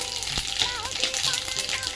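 Cumin seeds hitting hot oil in a pan while cooking a Bengali bottle-gourd dish, giving a steady close crackling sizzle with faint spattering throughout.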